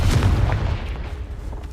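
A Confringo blasting spell goes off in the Hogwarts Legacy video game, a loud, low booming explosion that rolls out and fades over a couple of seconds.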